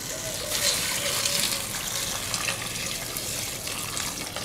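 Water pours steadily into a pot of bean and chorizo stew, a continuous close splashing gush that holds at an even level, with no speech.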